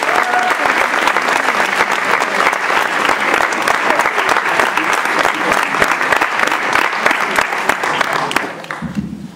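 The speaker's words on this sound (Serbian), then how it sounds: "Jedan veliki aplauz za njih." An audience at a Serbian fantasy film festival applauds in a hall, loud steady clapping with a few crowd voices that fades out near the end.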